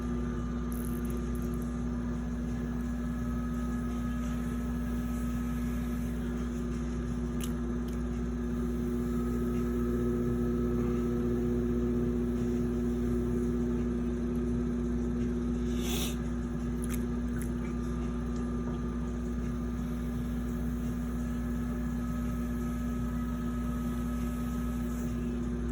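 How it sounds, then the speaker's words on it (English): A potter's wheel spinning while clay is centered, a constant low motor hum with a steady tone, faint wet rubbing and occasional soft squeaks over it. "You're actually wedging on the wheel as you center the clay."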